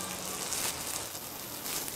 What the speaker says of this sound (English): It's like crackling.